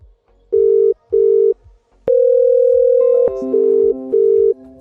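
VoIP softphone call tones as 3CX calls Zoiper: two short beeps, a long sustained tone, then alternating two-pitch beeps, loud and clean with no talking.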